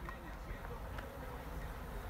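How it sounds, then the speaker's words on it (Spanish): A dense, continuous buzzing of many Africanized honey bees during a hive extraction, close and steady, with a faint murmur of voices mixed in. "Muchas abejas."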